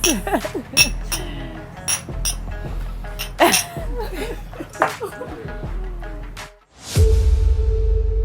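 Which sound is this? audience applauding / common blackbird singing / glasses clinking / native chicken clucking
glasses clinking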